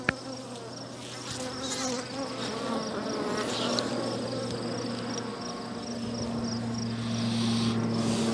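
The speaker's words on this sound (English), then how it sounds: "And the bees are getting wild. They're starting to chase me." Agitated honey bees buzz steadily around a beekeeper at an open hive, a dense, continuous drone close by that swells slightly toward the end, with individual bees whining past.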